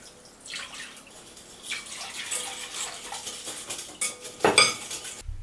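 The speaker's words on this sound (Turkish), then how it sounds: "İlk olarak mayayı sıvı malzemeler ve toz şekeriyle birlikte yoğurma kabımın içerisine alıp karıştırıyorum" A utensil stirs yeast with liquids and sugar in a kneading bowl, making close, soft swishing and scraping with light clinks against the bowl that grow louder toward the end.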